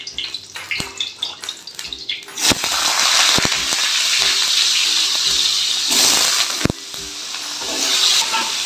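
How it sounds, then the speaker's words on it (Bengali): Potatoes frying in hot oil with whole spices such as cinnamon, cloves, cardamom and bay leaves, giving a steady, loud sizzle broken by a few sharp clatters of stirring, with no voices. "আলুগুলো খুব ভালো করে লাল করে ভেজে নেব।"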